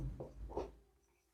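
Pen or pencil writing a sentence on paper, heard as a short burst of soft, close scratchy strokes that fades to quiet.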